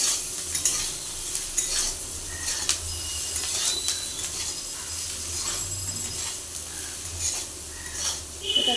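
Food sizzles in a pan while a utensil stirs and scrapes at irregular intervals, a steady frying hiss underneath; sugar has just been added.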